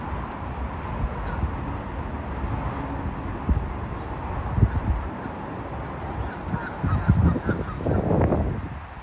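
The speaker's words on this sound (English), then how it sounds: "There are some happy ducks" Ducks on open water near a blossoming cherry tree give loud, honking quacks that cluster near the middle and end, over a steady bed of outdoor background noise.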